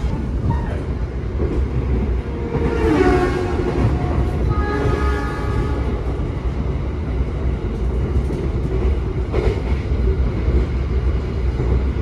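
Argo Cheribon passenger train in Indonesia rolling steadily on the rails, a loud continuous rumble heard from inside the carriage, with a brief tonal squeal rising and fading partway through.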